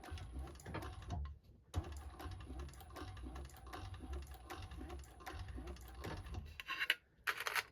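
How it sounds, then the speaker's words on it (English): Sewing machine back stitching the seam of a tote bag with interfacing, a close, steady mechanical whirring and clicking with short pauses, including a brief stop partway through and a few sharper clicks near the end. "start again on the second one, holding your threads and back stitching"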